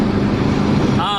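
A 1969 VW Fastback with freshly tuned carburetors drives along. Its engine rumbles loud and close, with buffeting wind noise, and a voice may be heard faintly.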